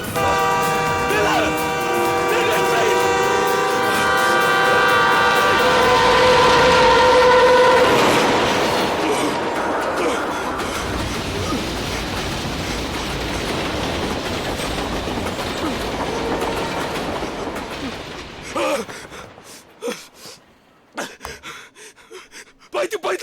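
A train passes close by, a loud horn blaring over rumbling, clattering wheels, then the noise fades and someone gasps as it recedes.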